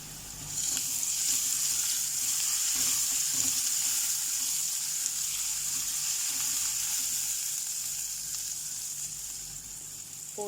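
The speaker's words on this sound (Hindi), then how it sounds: "अब इसमें डालेंगे जिंजर गार्लिक का पेस्ट, आप चाहे ग्रेट करके भी ऐड कर सकते हैं।" Ginger garlic paste fries in a pan with a steady, bright sizzling hiss that starts abruptly, holds strong and slowly fades a little, heard close with no talking.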